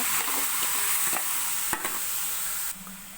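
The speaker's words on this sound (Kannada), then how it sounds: "ಇರುವಂತಹ ತುಪ್ಪಗೆ ನಾನು ಇವಾಗ ಬೀಟ್ರೋಟ್ ಹಾಕ್ಕೊಂಡು ಇದನ್ನು ಕೂಡ ಹುರ್ಕೋತಿದ್ದೀನಿ ತುಪ್ಪದಲ್ಲೇ" Beetroot frying in ghee, with a steady close sizzle broken by a few stirring scrapes and a brief clatter, dropping in intensity near the end.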